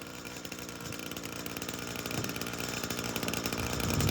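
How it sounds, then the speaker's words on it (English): A Husqvarna 545 chainsaw engine runs steadily while warming up, a loud, close, buzzing two-stroke drone with a fast even pulse that slowly gains volume, with no voices. "We're gonna let this warm up. Let's see how the 545 does here."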